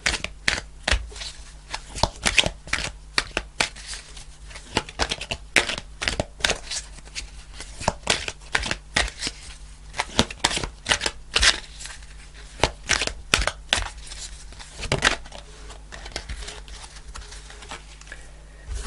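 Tarot cards are shuffled by hand nearby in a long, continuous run of crisp, rapid riffling clicks and slaps, with no talk.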